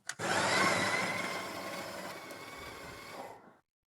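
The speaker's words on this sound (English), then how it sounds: "now here's the grind process of the Breville." A Breville Barista Express grinding coffee beans: a loud, steady whirring grind that starts after a brief click, slowly softens and then cuts off abruptly near the end, leaving silence.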